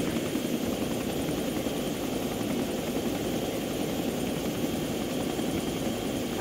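Helicopter in the Arma 2 video game, a loud, steady rotor thrum and engine roar holding constant and close throughout.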